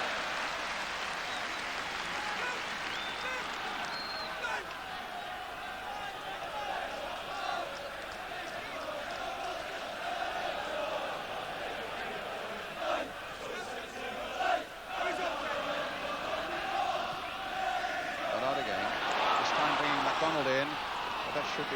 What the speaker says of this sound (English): it's the crowd behind the goals.